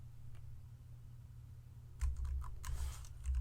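Typing on a computer keyboard, quiet at first over a low hum, then a quick close burst of clicking keystrokes in uneven rhythm, with no talking.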